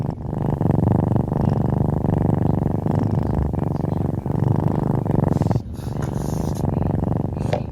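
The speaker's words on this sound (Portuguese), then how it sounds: "O ronron dos gatos é algo presente em outros felinos selvagens, mas não em todos." A cat purrs loudly and steadily up close, a continuous rumbling rhythm that pauses briefly near the end before resuming.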